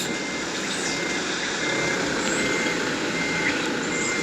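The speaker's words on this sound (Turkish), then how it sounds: "şu an bir tane arabayı çekiyoruz" A truck tows a car through a bus simulation game with city buses, its engine a steady dense rumble overlaid by continuous reversing beeps, loud and unbroken throughout.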